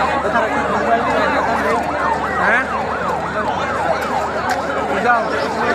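A wailing ambulance siren sweeping up and down in fast repeated cycles, loud and steady, passing through a street crowd at a public gathering, with people talking underneath.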